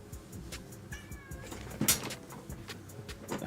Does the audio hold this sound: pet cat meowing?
yes